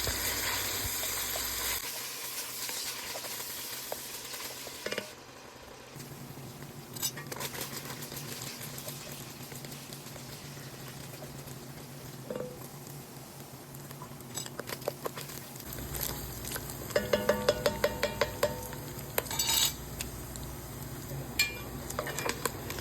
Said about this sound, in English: So after the bacon is crisped up really, really well, you want to get it out and get it drained.